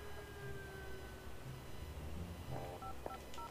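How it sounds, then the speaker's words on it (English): Telephone keypad dialing tones in the alien action game Destroy All Humans! 2, a quick run of short beeps near the end over a steady background of game ambience and low rumble. "Can I make a phone call again?"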